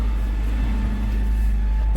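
A Citroen 2CV's small engine runs steadily at idle with a close, even low rumble and faint hum, ending in a brief burst of noise.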